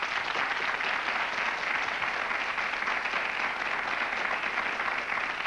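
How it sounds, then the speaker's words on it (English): A television studio audience applauds guests on a talk show about communism in America with a thick, continuous roar of clapping that stays steady and fairly loud throughout. "Please give them a round of applause."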